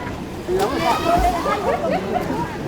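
People splashing and playing in the water at Blue Lagoon in Vang Vieng, with soft sloshing and splashes mixed under a nearby voice speaking and faint crowd babble in the background.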